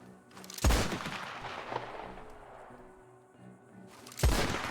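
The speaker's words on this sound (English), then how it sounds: "The echoes of the gunshots sound so good here." Gunshots in the Western video game Red Dead Redemption on a RedM roleplay server, two loud booming shots a few seconds apart, each trailing into a long rolling echo across open terrain.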